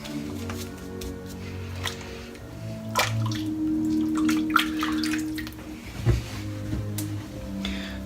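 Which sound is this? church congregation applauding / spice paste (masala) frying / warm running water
warm running water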